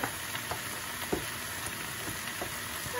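Pea shoots and bacon sizzle in a stir-fry, a constant crackle broken by several soft scraping tosses of the spatula.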